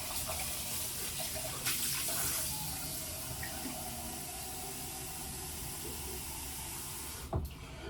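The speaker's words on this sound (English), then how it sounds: "We fill the whole thing up with water." Tap water runs steadily into a flask container, a continuous close hiss and splash lasting several seconds, with a brief knock near the end.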